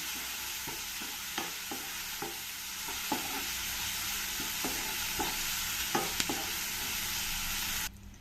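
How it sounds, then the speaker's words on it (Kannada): Tomato sizzles steadily in a hot pan for tempering while a utensil scrapes and stirs in irregular taps, close and continuous, without talk. "ಟೊಮೆಟೊ ಒಗ್ಗರಣೆಗೆ ಯೂಸ್ ಮಾಡ್ತಾ ಇದ್ದೀನಿ ಇದನ್ನು ಚೆನ್ನಾಗಿ ಫ್ರೈ ಮಾಡ್ಕೊಳ್ತೀನಿ"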